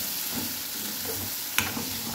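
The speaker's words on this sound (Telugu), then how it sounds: "సో ఆల్రెడీ ఫ్రై చేసిన పన్నీర్ పీసెస్ ఇందులో వేసానండి." Ghee-fried paneer pieces sizzle in chili masala in a pan, a dense steady frying hiss with one brief scrape of a spoon, close up and without voices.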